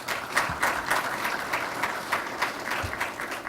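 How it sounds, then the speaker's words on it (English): An audience applauds panelists at a sports business conference, a steady wash of many hands clapping at moderate volume, dense and continuous with faint voices mixed in. "Round of applause for our panelists,"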